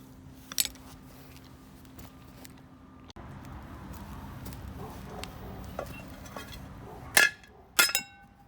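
Metal parts of a Victa two-stroke lawnmower take a few sharp hammer strikes, isolated clanks near the start and a close pair of loud ringing blows near the end, with quiet background in between.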